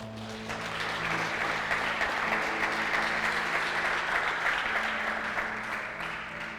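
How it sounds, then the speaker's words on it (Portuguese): Sustained audience applause swells up and continues in a dense, steady wash of clapping for several seconds, with a low hum beneath it. "Dá um aplauso, fique de pé."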